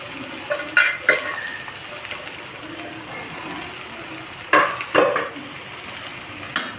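Sabudana (sago pearls) tipped into a pan and stirred with a spoon, giving soft scraping and light sizzling plus a few sharp metallic clinks of utensil on the pan, heard close and alone.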